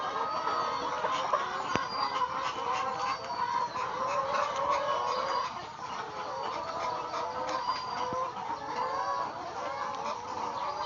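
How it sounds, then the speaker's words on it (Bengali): Hundreds of chickens cluck and chatter together on the floor of a crowded, run-down poultry farm, a dense, continuous chorus of overlapping calls, fairly loud and close, with no voices over it. "সারা ফার্মের নিচে মুরগি ভরা।"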